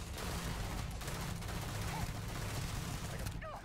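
Rapid energy-rifle fire in the space game Starfield, a dense continuous barrage of beam shots and impacts over a busy combat mix, with a voice talking faintly underneath.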